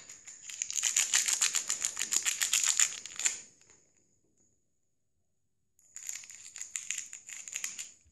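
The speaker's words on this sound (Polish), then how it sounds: "A teraz otwórzmy karty, paczki z Ibrahimovićem." Foil packs of 2014/2015 Update Edition football cards being torn open: two bursts of crisp crinkling and rattling, close and fairly loud, separated by a silent pause of a few seconds.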